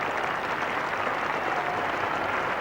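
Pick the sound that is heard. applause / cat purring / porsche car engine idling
applause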